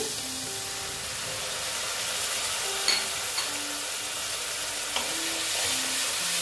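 Ground cumin, chili, coriander and Kashmiri red chili powder sautéing with a splash of water in a pan for egg and potato curry, giving a steady, close hissing sizzle with a few faint clicks of stirring.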